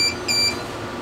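A continuous wrist strap monitor at a workstation sounds two short, bright electronic alarm beeps in quick succession, close and fairly loud over a steady background hum.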